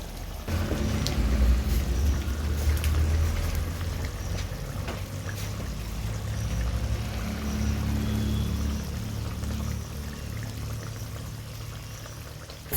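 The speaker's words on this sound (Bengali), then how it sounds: "মাছগুলোকে এবার আমি আর কিছুক্ষণ ভালো করে ফুটিয়ে নেব।" A pot of boal fish curry with green chillies bubbles steadily at a boil, giving a continuous close, dense simmering and bubbling noise with no voices.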